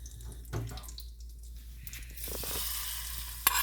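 Mustard seeds and curry leaves hit hot oil for a coconut chutney tempering, a hissing sizzle that swells midway and keeps going, with a sharp pop near the end and no talk.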